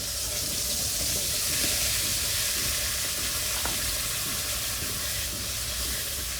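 Fish curry sautéing in a pan with a ground paste of mustard, green chili and ginger: a dense, constant sizzle and bubbling hiss fills the whole stretch, with faint stirring scrapes and no talk.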